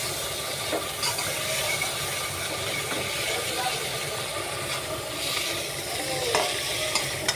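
Egg curry cooks in a pan with a steady sizzle and frying hiss, occasional stirring scrapes and clinks on top, moderately quiet and close.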